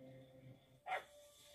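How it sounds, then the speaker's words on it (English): A puppy on The Walking Dead, season 10 episode 18 "Find Me", gives one short, high yip, faint against a low steady background hum from the TV. "A puppy!"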